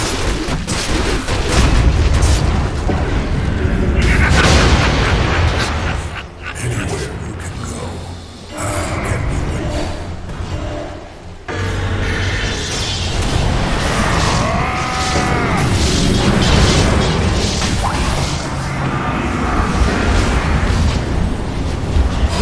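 A Dota 2 battle at the Radiant's middle tower, with dense, loud, continuous booms and crackling impacts of combat and spell effects that swell and dip over about twenty seconds.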